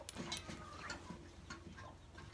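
A nesting hen clucks and fusses in short, quiet bursts close by, with faint scratching and rustling between the sounds.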